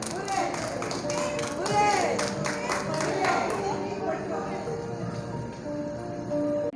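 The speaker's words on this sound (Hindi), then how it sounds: "जोरदार तालियां हमारे सभी क्लब के मेंबर्स के लिए।" Club members are applauded at a Free Birds Club awards ceremony for International Women's Day. A burst of clapping and crowd noise rises early, then fades, with a voice talking over the room throughout.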